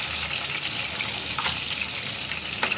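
Fish fries in hot oil in a pan in a home kitchen, a steady close sizzle with occasional crackles and light utensil touches, no voices over it.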